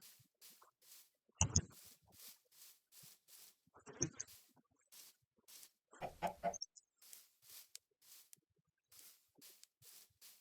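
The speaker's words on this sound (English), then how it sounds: "Yeah, we got parrots over here." Parrots let out a few loud, harsh squawks nearby, spaced seconds apart against a faint, regularly pulsing background.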